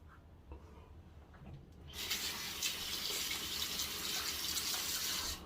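Running tap water gushes on steadily during a wet shave, rinsing lather off a razor blade; it starts abruptly after a quiet moment and continues as a close, bright, hissing stream.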